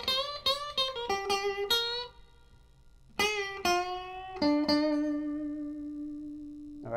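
An electric guitar plays a blues solo phrase over the five chord, quick picked notes with a bend into a long sustained final note, clean and close with no talk.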